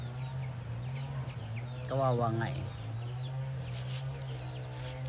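A hen tucked away at a farmhouse gives a short burst of rising, strained clucks partway through. Steady background hum sits underneath, and a person speaks nearby.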